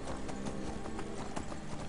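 Horse hooves clip-clop steadily in the video game Skyrim, a quiet, even rhythm of hoofbeats over a low background rumble.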